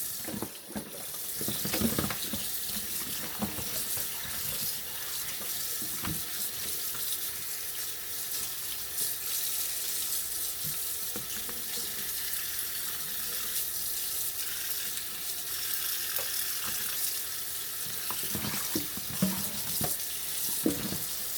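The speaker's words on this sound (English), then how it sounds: "We're gonna rinse them off real good again." Tap water runs steadily into a sink as soaked pork neck bones are rinsed, a continuous close splashing hiss with occasional clunks and knocks of handling, no voices.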